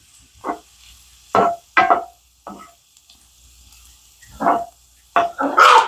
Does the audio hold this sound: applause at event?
no